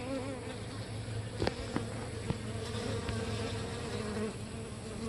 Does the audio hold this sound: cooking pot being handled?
no